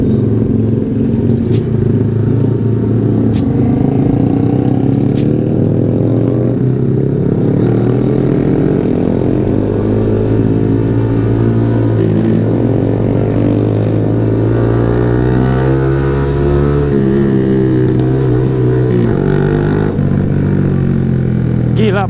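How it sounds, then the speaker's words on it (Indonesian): A Yamaha R15 V3 2020 motorcycle's loud, raspy exhaust drones close up while riding, pitch wavering as the engine revs rise and fall, with a rider talking over it. "Tapi emang bacot banget sih ini knalpot gua anjir."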